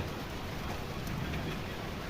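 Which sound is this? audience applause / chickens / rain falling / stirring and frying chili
rain falling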